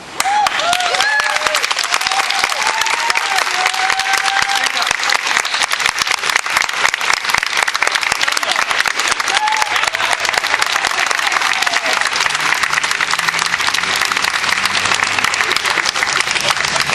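A crowd applauds steadily and loudly throughout, dense clapping without pause, with faint voices and a few whoops mixed in.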